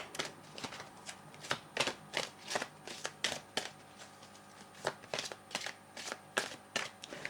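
Oracle cards being shuffled by hand, a steady run of crisp riffling snaps and flicks repeating in quick clusters, close and clear, with no talking.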